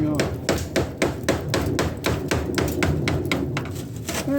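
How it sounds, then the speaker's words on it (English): Metal hammer blows strike a rivet on a steel stovepipe, about a dozen sharp, ringing hits in a quick, fairly even rhythm, loud and close with no talking. "So I'm going to try to pop this rivet off"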